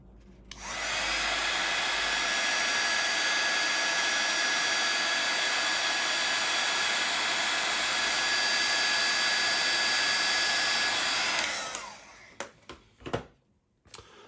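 A heat gun blows with a loud, steady whir as it melts white embossing powder, running continuously for about eleven seconds before switching off, followed by a few faint clicks and handling noises.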